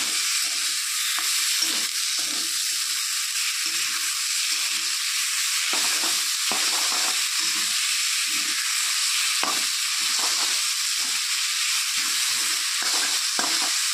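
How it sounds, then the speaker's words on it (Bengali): Leafy greens are stirred in a pan with a little oil, turmeric and salt: a steady close sizzle and hiss, broken by repeated scraping strokes of the spatula, with no talking. "আমাদের একটু ভালো করে নাড়াচাড়া করতে হবে।"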